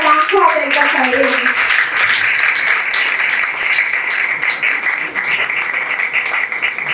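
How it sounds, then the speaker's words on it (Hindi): An audience at a church Bible study gathering applauds in a sustained wash of clapping from a crowd, loud and even throughout, with a voice briefly speaking over the start. "Put your hands together, everyone."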